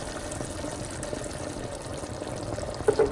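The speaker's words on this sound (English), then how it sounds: "After the alcohol is cooked off, I'm adding 32 ounces of a tomato sauce" Thick tomato sauce, 32 ounces, pouring into a pan during home cooking, a steady low wet glugging and splattering that runs throughout, with a couple of louder plops near the end.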